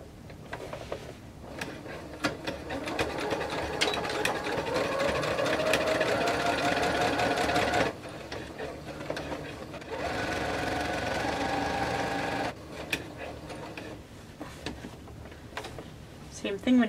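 Domestic sewing machine stitching fabric for a multi-pocket bag, running in steady bursts with a pause between runs, close and fairly loud while someone talks over much of it.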